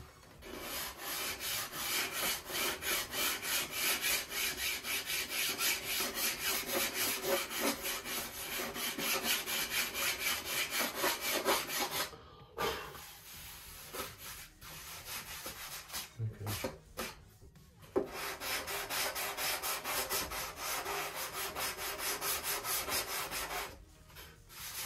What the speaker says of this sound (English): You don't want to sand a groove into your fuselage.